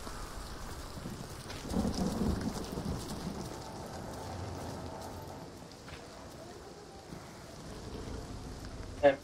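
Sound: heavy rain in a video game

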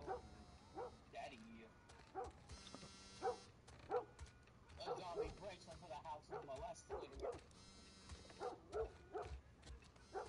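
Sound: dog barking in video game The Last of Us

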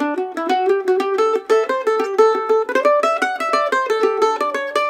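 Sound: mandolin Irish jig triplets played with a thin flexible pick

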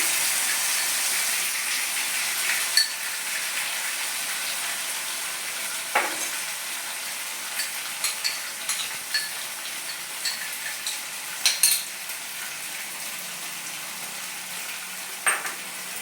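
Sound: tomato and paneer paste frying and stirred in a pan

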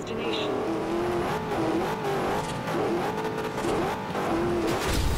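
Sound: Hennessy Venom GT car engine racing in video game Forza Horizon

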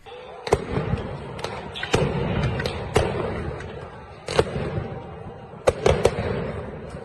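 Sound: stun grenades and gunfire during a clash at Al-Aqsa Mosque

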